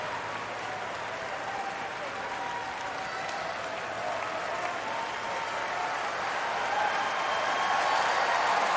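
Steady applause from a large tennis crowd at a US Open fourth-round match, a dense wash of clapping that holds through the whole stretch and swells slightly louder toward the end.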